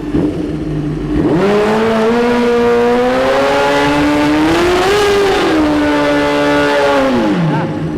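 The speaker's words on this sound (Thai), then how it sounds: "นี่คือวิธีการเบิร์น" A car does a tire burnout, its engine revving hard in one sustained, loud, close roar whose pitch climbs, wavers and drops away over about seven seconds.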